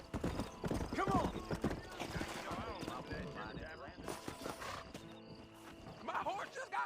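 Horse hooves clip-clop at a gallop in a Western video game, with shouting voices, gunfire-like bursts and a whinny layered over the steady hoofbeats.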